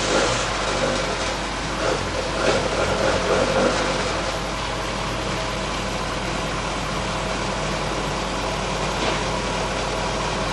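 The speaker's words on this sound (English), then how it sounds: "the engine is run on the test bed, thoroughly checked and finely tuned" A Lotus engine, from a factory mainly building the Esprit in 1984, runs steadily on a test bed, giving a constant mechanical hum with a low drone throughout and slight surges early on, with no voices.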